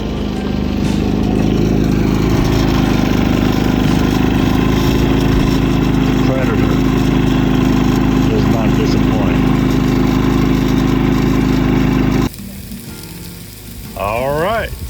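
A portable generator powering an electric skillet of rice at a Grand Canyon campsite drones steadily with a low engine hum and a sizzling layer, then cuts out abruptly near the end, leaving quieter background.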